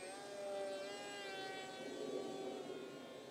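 A radio-controlled delta racer plane flies overhead just after takeoff, its electric motor giving a steady, sustained whine that slowly shifts in pitch as it passes at a moderate distance.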